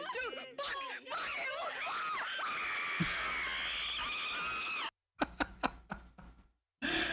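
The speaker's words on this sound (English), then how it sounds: "I hate when people scream." Screams and excited shrieks during a livestream discussion of a zombies game, loud and sustained for several seconds, then breaking into short bursts with brief silences.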